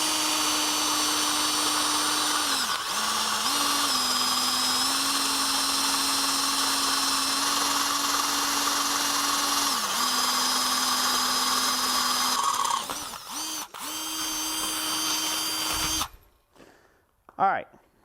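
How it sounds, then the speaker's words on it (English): A power drill bores holes through a forged steel strap for a garden hose hook, a steady loud whine with brief dips as it bites, running continuously before stopping abruptly near the end. "getting some holes drilled in this strap and in this piece"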